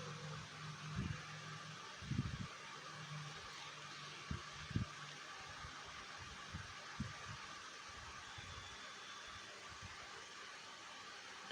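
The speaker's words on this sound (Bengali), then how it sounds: "আর মাথার উপরে ফ্যান চলছে" A ceiling fan spins overhead on a home balcony, giving a soft, steady whir with a few scattered low thumps and knocks.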